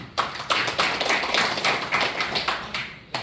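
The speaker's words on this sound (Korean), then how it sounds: "박수 좀 부탁드립니다." Audience applause in a hall at a monthly meeting of Vietnam War veterans in Chuncheon, a dense wash of many hands clapping with sharp accents, moderately loud and steady for a few seconds before a health lecture.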